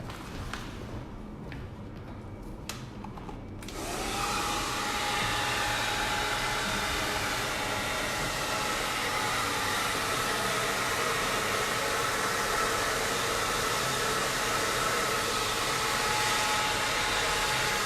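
A hair dryer fitted with a diffuser attachment dries long layered hair after a razor cut. It starts after a few seconds of small handling noises and then holds a loud, steady blowing roar close by.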